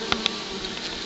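Nurse bees cover a brood frame from a honey bee cutout and hum in a dense, close, continuous buzz, with a couple of individual bees zipping past.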